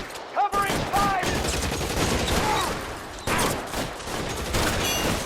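Gunfire breaks out in the video game L.A. Noire as dense, loud bursts of rapid shots in a firefight, mixed with shouted voices.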